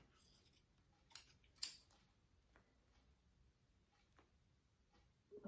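Scissors snip kinesiology tape between the fingers of a taped thumb, giving two short, crisp cuts close by in an otherwise quiet room, followed by faint small ticks and a soft rustle at the end.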